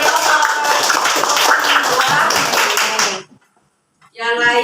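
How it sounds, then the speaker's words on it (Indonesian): A classroom group claps together under overlapping voices for about three seconds, then the clapping stops abruptly and a voice speaks after a short silence. "Ayo tepuk tangan yang lain."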